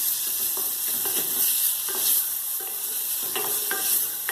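Tomatoes stirred into a sizzling pan of mutton saalna with ginger-garlic paste, a loud continuous frying hiss broken by repeated scraping stirs of a spoon against the pan.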